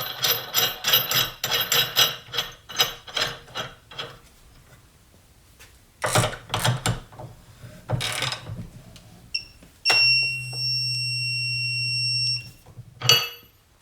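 A Harbor Freight Hercules cordless impact wrench set to 145 foot-pounds hammers in several loud, rapid bursts separated by pauses, followed by a steady electronic beep tone from the torque tester.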